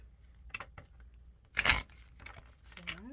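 A tarot deck is shuffled by hand up close. Soft taps and card rustles lead into one short, bright riffling burst, then a few lighter flicks follow in an otherwise quiet room.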